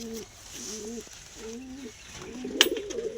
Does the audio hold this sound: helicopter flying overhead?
no